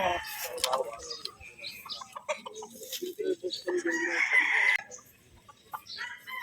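Young Boston cross gamefowl stags at a gamefarm crow and cluck in several overlapping calls, with other birds close and distant and a voice speaking between them.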